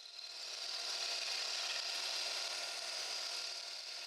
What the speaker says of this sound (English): Now I turn the tool sideways and trim the tenon in a number of light passes.